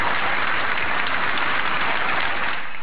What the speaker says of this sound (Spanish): una vez más los aplausos llenaron al Teatro Heredia en Cartagena